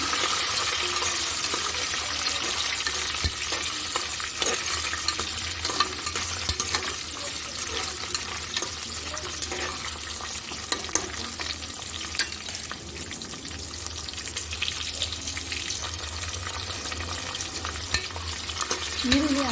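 Onions cut lengthwise and green chilies fry in a pan for aloo bath, a continuous soft sizzle with occasional stirring scrapes and clinks, close and fairly quiet with no voices.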